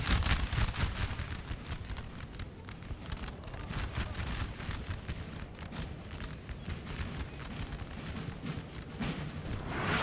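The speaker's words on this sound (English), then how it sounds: "you can see the artillery is just really putting the hurt on this Naples regiment" Cannon volleys roll through a Napoleon: Total War battle, a dense, continuous barrage of overlapping booms and crackling musket-like bursts that stays loud and steady for the whole stretch.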